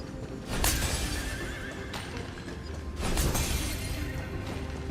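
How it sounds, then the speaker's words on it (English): A horse neighs twice in the Honkai: Star Rail video game, each whinny rising loudly over a dense game soundtrack, the second arriving about two seconds after the first. "It's the horse and it makes a sound too."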